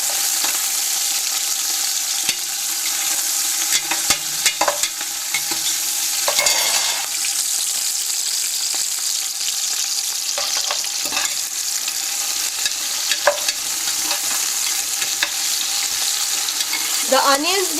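Thinly sliced onions for an Indian meat curry sauté in a pan under a steady close sizzle, with intermittent scrapes and clinks from stirring throughout and no talking.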